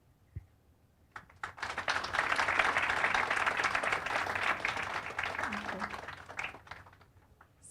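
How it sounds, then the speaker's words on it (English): After a few scattered claps, an audience at a women's leadership summit breaks into sustained, dense applause welcoming a panel, swelling for several seconds before tapering off to isolated claps. "be ready to keep on clapping"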